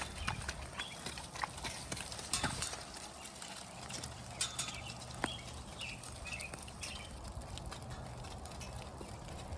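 A horse's hooves clip-clop around a snowy pen, a repeated uneven thudding of steps at moderate distance over a quiet outdoor background with faint birds chirping.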